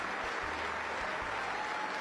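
A large crowd claps for a speaker standing at a podium, a thick unbroken wash of applause that stays loud and even throughout.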